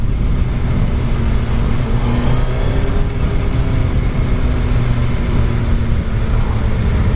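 A 2019 or 2020 Suzuki Hayabusa motorcycle accelerating in second gear, heard as a loud, steady engine roar with constant wind rush, close and continuous with no talk.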